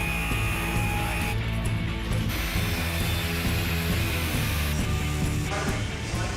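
Continuous mechanical workshop noise from cutting wooden pieces for a wooden skate wave, a steady grinding, ratcheting drone that runs unbroken throughout at close range, with no talking.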